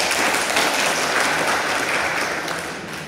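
An audience claps together at an Adivasi student association meeting in Assam, a dense, steady burst of applause that stays loud throughout and eases off slightly near the end.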